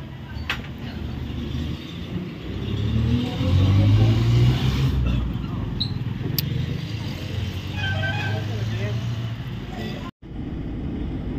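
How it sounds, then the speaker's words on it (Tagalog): Inside a moving car, a steady low road and engine rumble continues throughout, swelling slightly midway, with light rattles and a brief dropout near the end. "pauwi na po kami, nandito po kami sa sasakyan"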